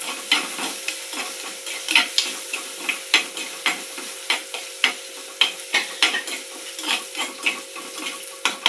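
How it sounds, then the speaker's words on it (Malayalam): Crushed ginger and garlic frying in a pan, with a steady hiss of sizzling oil under repeated rhythmic scrapes and taps of a spoon as the mix is stirred, close and clear, no talk. "നല്ലവണ്ണം ഒന്ന് ഇളക്കി കൊടുക്കാം അല്ലേ."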